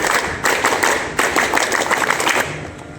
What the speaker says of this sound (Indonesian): Satu kali tepuk pramuka.